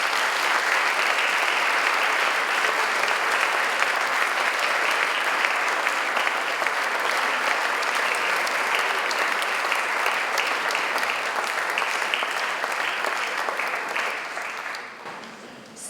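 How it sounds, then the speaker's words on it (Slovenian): An audience at a school's annual concert gives sustained, loud, dense applause lasting about fifteen seconds, then fading away at the end. "En velik aplavz."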